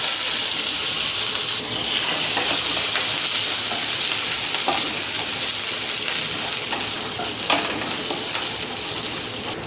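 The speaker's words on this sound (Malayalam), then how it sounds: "കടുക് പൊട്ടി വരുന്ന സമയത്ത് നമുക്കിതിനകത്ത് ഒരു ചെറിയ കഷ്ണം ഇഞ്ചി ചെറുതായിട്ട് അരിഞ്ഞ് അതിനകത്ത് ഇട്ട് കൊടുക്കുക" Mustard seeds, chopped ginger and green chili sizzle and crackle in hot oil in a pan, a loud continuous fry with sharp pops scattered throughout, close up and with no talking.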